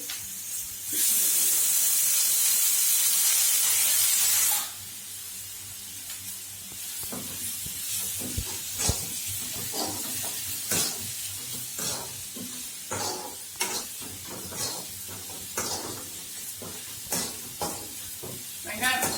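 Small chopped shallots sautéing in a pan: a loud burst of hiss as they hit the oil, then steady sizzling with repeated spoon scrapes and stirring taps, close up.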